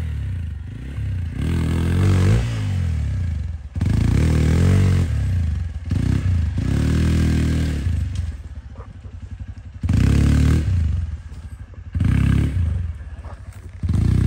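A Hero XPulse 200 motorcycle on a hard enduro trail revs in repeated loud bursts with pauses between them, close by, with scraping and clattering as it struggles over rough ground.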